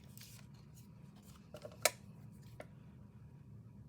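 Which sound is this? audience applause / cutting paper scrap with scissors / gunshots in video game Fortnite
cutting paper scrap with scissors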